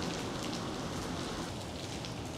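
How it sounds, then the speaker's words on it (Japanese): Heavy rain falls by a riverside, a dense, loud, continuous hiss of drops striking surfaces close by, with no voices. "めっちゃ雨降ってきたんで中断してます"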